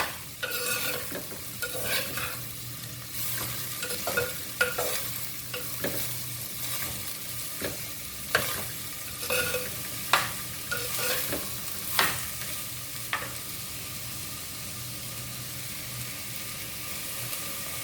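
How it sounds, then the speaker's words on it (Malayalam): Bitter gourd is sautéed in a pan with a long, steady sizzle. Intermittent scrapes of a spatula stirring it come every second or two, fairly quiet and close, with no voices. "പാവക്ക പകുതി വേവാവുന്നവരെയും ഒന്ന് വഴറ്റി കൊടുക്കാം."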